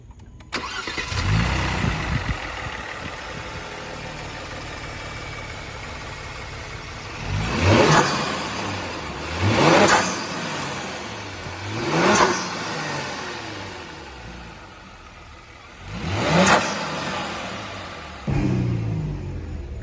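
Kia Stinger GT engine fitted with DIY intakes idles steadily, then revs in four sharp bursts that rise and fall back to idle, loud and close with no talking.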